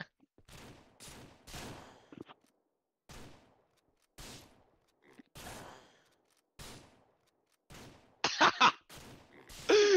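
Gunfire in the video game Ram Ranch Simulator comes as short separate bursts and volleys, spaced a second or so apart and ending in a louder, sharper cluster, with faint talk in between.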